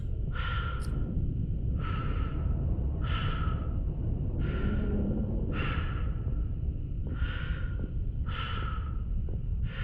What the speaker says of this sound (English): All we can hear is our breathing.